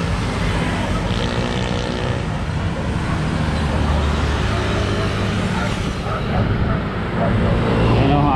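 Dense roadway rumble from a jammed road packed with vehicles, heard from a bicycle: a steady engine drone and traffic noise that stays loud and continuous throughout.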